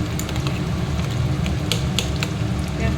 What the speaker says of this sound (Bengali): পেঁয়াজ দিয়েছি, পেঁয়াজটাকে ভাজছি